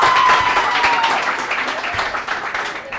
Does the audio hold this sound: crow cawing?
no